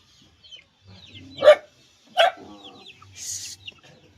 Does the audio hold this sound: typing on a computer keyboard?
no